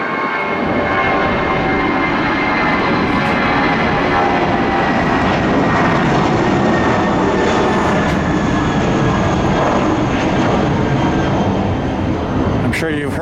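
A Spirit airliner landing at Tampa International Airport gives a loud, steady roar of jet engines and rushing air that holds throughout, with a voice speaking over it.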